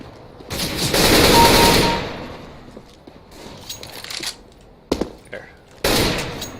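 Gunfire in the video game CS:GO, a long loud burst of automatic fire followed by a few sharp single shots and another burst near the end, with brief speech between.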